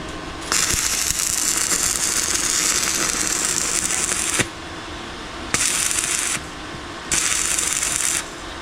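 A metal clamp is ratcheted tight during welding work on a pigeon loft frame, a long stretch of dense, rapid clicking followed by two shorter bursts separated by brief pauses, close and fairly loud.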